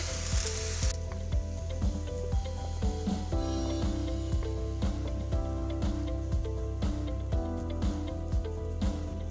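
Shrimp fried rice with soy sauce being stirred in a hot pan, steady loud sizzling broken by regular scraping strokes of the utensil, about two per second, with no talking.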